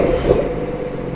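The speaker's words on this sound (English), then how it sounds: "It has now been 30 seconds, so we can turn the car on." A remapped BMW M140i with a stage 2+ tune starts up close by, a brief surge settling into a steady, even engine hum with no voices.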